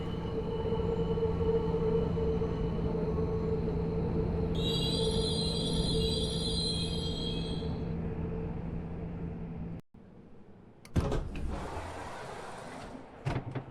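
Hamburg DT5.1 electric multiple-unit subway train in the simulator game SubwaySim 2, a steady droning motor hum with a high tonal whine that cuts off abruptly, then rough rolling noise returns.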